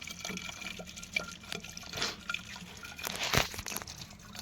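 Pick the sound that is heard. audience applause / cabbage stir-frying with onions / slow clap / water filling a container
water filling a container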